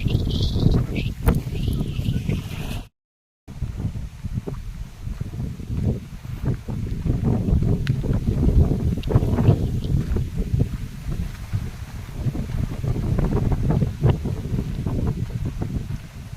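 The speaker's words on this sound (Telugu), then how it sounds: "గాలి అయితే ఎక్కువగా అయితే ఉందండి." Strong wind buffets a fishing boat out at sea, roaring steadily across the microphone with rough gusts and a brief dropout near the start, and water and hull noise mixed underneath.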